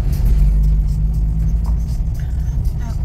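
Taxi car arriving, a loud, close, low engine rumble rolling steadily throughout with faint road noise.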